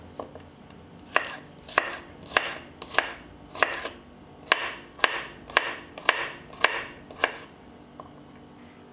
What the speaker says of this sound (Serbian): I sada ću iseckati i 4 čena belog luka.